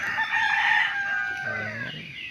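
A red junglefowl (labuyo) rooster crows once beside a roadside hut, loud and close, in a single drawn-out call that fades at the end, with no voices.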